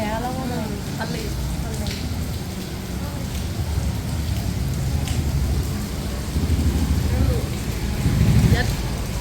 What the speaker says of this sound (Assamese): বৰষুণ দি আছে কাৰণে ৰখিব লগা হৈছে